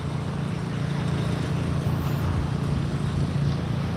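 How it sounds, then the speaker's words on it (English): A taco truck's generator runs steadily in the background at a roadside scene with traffic nearby, a constant low droning hum that stays even throughout without pauses. "If you can hear the generator in the background, that's the taco truck."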